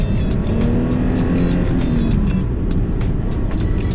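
Manual car engine revving steadily with the clutch pressed in, a loud continuous drone whose pitch climbs and then eases slightly, alone without talk.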